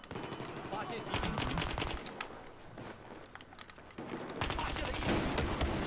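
Rapid gunfire in a first-person shooter video game, including shotgun blasts, comes as loud dense bursts that pause briefly midway and then resume close and intense.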